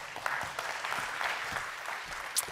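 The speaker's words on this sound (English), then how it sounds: "a warm round of applause, please, for Mr. Jan Marcus Lervik from Cognite" Conference hall audience clapping to welcome a speaker at IGF 2025, a soft, distant wash of many hands with scattered sharper claps, fairly quiet overall.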